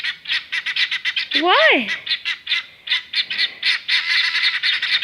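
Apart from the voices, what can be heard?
guinea fowl alarm calling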